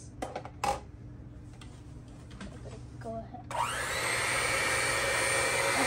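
A mixer churning goat milk ice cream base starts up after a few clinks and taps, then runs as a steady, loud, whirring drone.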